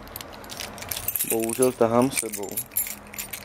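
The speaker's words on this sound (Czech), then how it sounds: "Máme si příslušný svazek klíčů" A bunch of keys jangles in brief metallic bursts over the middle of the clip while someone speaks Czech over and around the clinking.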